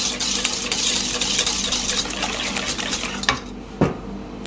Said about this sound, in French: Bien mélanger les œufs et le sucre.